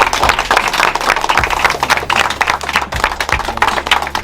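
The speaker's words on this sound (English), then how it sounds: "Give a round of applause." Scattered clapping from a small audience at a home reveal gathering, with sharp irregular claps close by and some loose background chatter mixed in throughout.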